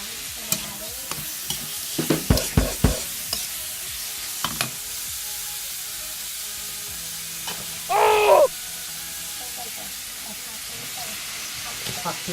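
Glass noodles and vegetables are stir-fried in a pan at a street kitchen in Vientiane, Laos: clustered metal clanks and scrapes of the utensil, a short loud hissing sizzle midway, and quieter stretches between.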